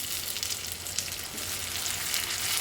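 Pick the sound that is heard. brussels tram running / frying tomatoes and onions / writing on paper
frying tomatoes and onions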